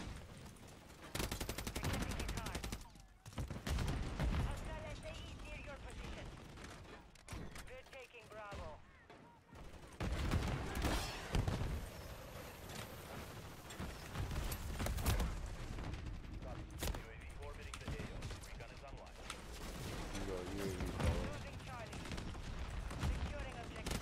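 A light machine gun fires in long rapid bursts in a zombies video game, with brief pauses between strings of shots. Steady and fairly loud throughout, with game mechanism sounds mixed in and people talking over it.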